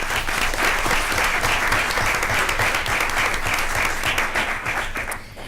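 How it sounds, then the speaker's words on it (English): Sustained audience applause at a Twinsburg City School District Board of Education meeting honoring two teachers, dense and steady throughout before easing slightly at the end. "Let's give them a round of applause."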